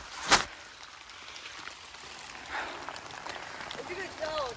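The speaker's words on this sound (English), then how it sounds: "If you could tell, it's raining." Rain falling outdoors at a construction site, a soft continuous patter under the voices of people talking, with a sharp clap-like hit near the start.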